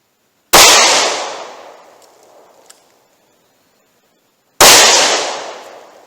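Two loud, close gunshots from a Taurus .357 Magnum revolver firing PMC Gold Starfire ammunition toward a chronograph, about four seconds apart, each a sharp crack with a long decaying echo.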